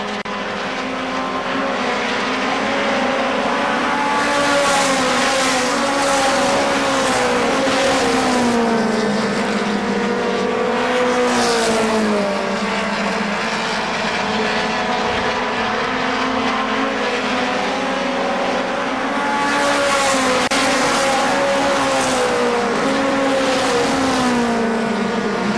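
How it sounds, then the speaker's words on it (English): Race cars and a pickup truck roar around the KilKare Speedway oval, a continuous loud engine drone whose pitch swells and dips as the vehicles pass and circle, with no pause. "Ron Wells now fourth in the number 6 pickup truck"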